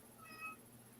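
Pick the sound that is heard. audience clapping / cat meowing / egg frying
cat meowing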